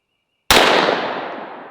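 A single loud gunshot from a Smith & Wesson Model 686 .357 Magnum revolver firing 158-grain Underwood jacketed hollow points, a sharp close crack after a brief silence, trailing into a long decaying echo.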